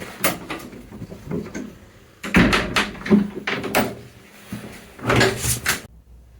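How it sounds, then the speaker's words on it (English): The heavy wooden double doors at the south porch of an old parish church are handled, giving a series of clunks, latch rattles and thuds in bursts. The sounds are close and echo slightly, and nobody speaks. "It's a double door, get in."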